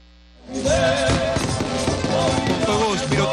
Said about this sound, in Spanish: Con fuegos pirotécnicos se está finalizando así el cierre de campaña